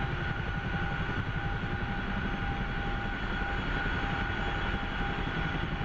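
A CH-47F Chinook helicopter in the DCS flight game cruising over hills near Beirut, a loud constant engine and rotor drone with steady tonal whine and no pauses.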